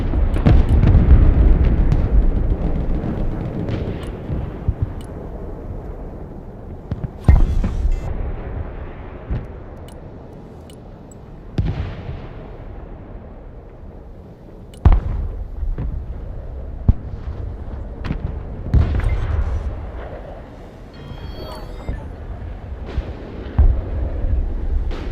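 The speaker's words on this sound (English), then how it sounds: "It's artillery, just keep firing, huh?" Artillery fire in the video game Broken Arrow: heavy booming blasts recur at irregular intervals, each with a sharp onset and a long rumbling decay, over a low battlefield rumble with no talking.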